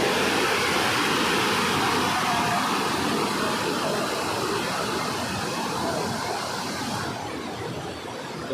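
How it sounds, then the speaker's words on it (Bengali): River water pours over the Kalidaha dam in a dense, continuous rushing roar, loud and steady throughout and easing slightly toward the end. "জলটা একদম স্মুথভাবে যাচ্ছে"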